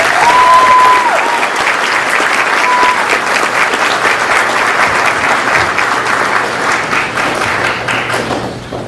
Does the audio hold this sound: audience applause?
yes